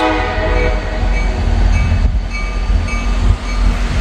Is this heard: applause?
no